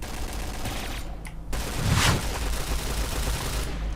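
Gunfire in the battle royale game PUBG, a steady rattling fusillade of rapid shots with a louder burst in the middle, continuing without pause.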